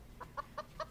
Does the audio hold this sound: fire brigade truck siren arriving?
no